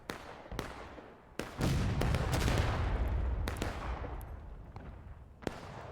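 Volleys of musket gunfire ring out on a large War of Rights battlefield: several sharp reports at irregular intervals, then a long, dense rolling fusillade of many overlapping shots that fades slowly, with more single cracks near the end.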